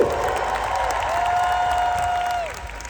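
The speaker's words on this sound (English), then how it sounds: "let's have a cheer for the animals" A crowd at an outdoor vegan camp-out festival cheers and applauds together, a sustained burst of many voices with one rising whoop standing out before the noise tapers off.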